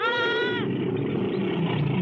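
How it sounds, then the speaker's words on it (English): A goat gives a single nasal, wavering bleat that cuts off partway, followed by a dull murmuring background with faint noise. "I'm going to untie that goat so that it can run away"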